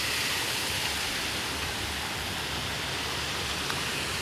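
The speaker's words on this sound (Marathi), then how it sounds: "तुम्हाला आवाजावरून थोडं कळत बी असं पाण्याचा आवाज चालू" Flowing water near a village lookout in the evening gives a constant, soft, even rush with no breaks and no talking.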